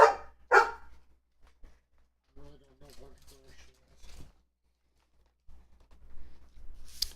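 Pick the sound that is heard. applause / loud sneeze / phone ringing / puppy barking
puppy barking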